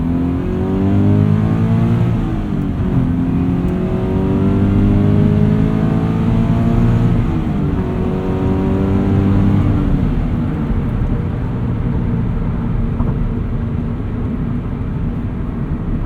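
Subaru BRZ running a catted UEL header with the stock exhaust, heard from inside the cabin as a steady flat-four drone that climbs and falls through several rev sweeps under acceleration, continuous and fairly loud with no talking.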